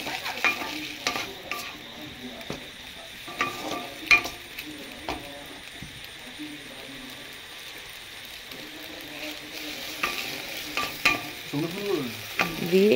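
Maggi noodles with a little added water are stirred in a pan, soft continuous sizzling under repeated scraping and clicking of the spoon, near and moderately loud, with no talking.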